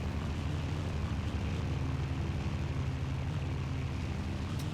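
A World War II aircraft engine in the video game Battlefield 1942 drones steadily and loudly throughout, with a dense, continuous propeller rumble and no breaks.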